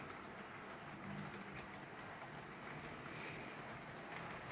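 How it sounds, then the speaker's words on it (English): A Walthers Trainline HO scale GP15-1 model locomotive runs on a 50-year-old Atlas 4x8 HO layout, giving a steady, continuous rumbling whir with no talking over it. "this is a Walther's train line locomotive, and it runs good"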